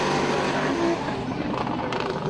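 BMW drift car at a drift round at Croix-en-Ternois, engine roaring at high revs with tire noise on the track, loud and sustained, with a commentator talking over it.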